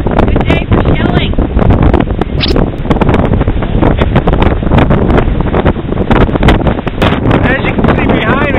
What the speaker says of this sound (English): I'm getting pelted with sand.